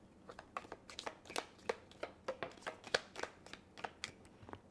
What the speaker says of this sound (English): But it's a hard deck to shuffle because there's so many.